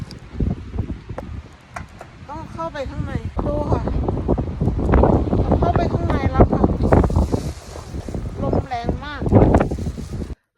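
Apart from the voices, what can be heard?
strong wind blowing on the microphone outdoors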